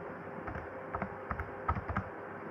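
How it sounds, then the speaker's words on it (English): Computer keyboard typing while entering a number for a maths calculation, a run of light, quick key taps with irregular rhythm, close and fairly quiet, with small pauses between bursts. "I'm typing it in just because I want to make sure I'm really exact."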